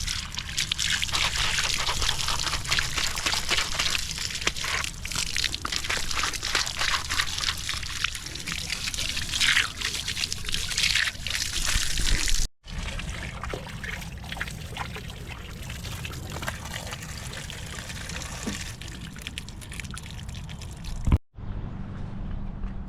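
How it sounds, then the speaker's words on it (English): Water pours and trickles steadily outdoors as feet are washed, a close, continuous splashing flow that breaks off twice, briefly, with no voices. "and I wash my feet."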